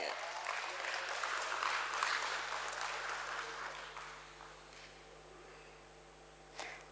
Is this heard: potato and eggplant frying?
no